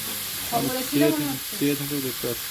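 Goat meat curry sizzles in a hot pan as green chilies go in, a steady frying hiss running beneath a person talking intermittently nearby.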